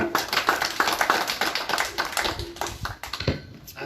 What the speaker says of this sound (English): So can we clap once again?